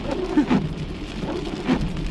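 Steady rain falls on an outdoor surface in sunshine during a summer field trip in the South, a dense, continuous wash of droplets with a few louder patters and no voices.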